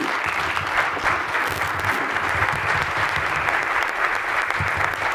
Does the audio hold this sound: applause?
yes